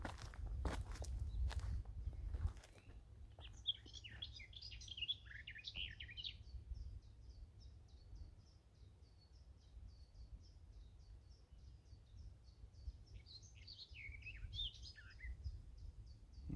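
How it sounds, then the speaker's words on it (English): A male blackbird sings a faint, distant warbling phrase from up in the trees outdoors, repeated after a pause, with footsteps crunching nearby at the start and soft ambient rumble throughout. "There's a male blackbird up in there somewhere having a sing song,"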